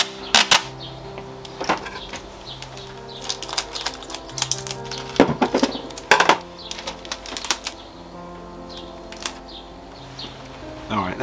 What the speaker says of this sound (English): just tape over the side that I don't want to get any spray on